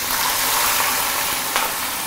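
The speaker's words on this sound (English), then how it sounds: "So when we put in into the hot oil, we will let it settle." Kampung fish frying in hot oil, giving a dense, continuous loud sizzle and crackle with small pops throughout, close up and without talk.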